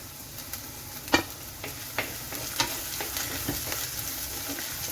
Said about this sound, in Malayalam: ഇളക്കി ഇതൊന്ന് വഴന്ന് വരുന്നിടം വരെ നമുക്ക് വെയിറ്റ് ചെയ്യാം